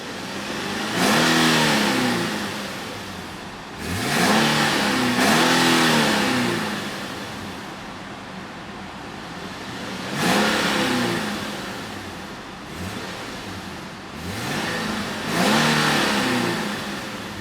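A 2011 Infiniti FX37 is revved toward its rev limiter, its engine climbing and dropping in several loud, close bursts separated by brief idle pauses, with no voices present.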